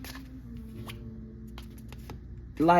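Tarot cards being shuffled, a few soft riffling and tapping bursts close by against a quiet background.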